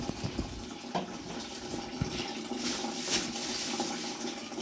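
Tap water runs steadily into a sink while raw chicken is washed for chicken pakora, a continuous close splashing wash with small clatters and no talk.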